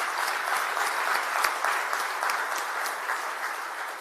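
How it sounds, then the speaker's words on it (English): An audience at the Greensboro State of the City event applauds steadily, a dense wash of clapping from a large room lasting the whole stretch. "I want to give them a round of applause."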